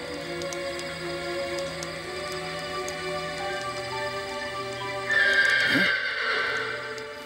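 A silver brumby, a wild Australian horse, gives a drawn-out whinny late in the clip, carrying clearly over a steady droning background and then trailing off.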